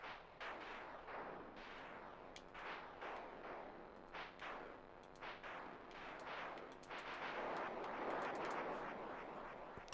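Missile launches and explosions from the video game Fallout 4 played on Very Hard, a rapid string of loud booming blasts and bursts one after another, continuous and dense throughout.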